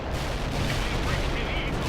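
Heavy tank armor fires in the World in Conflict video game as a dense, continuous roll of booming cannon and gunfire, loud and close, with battle chatter mixed in.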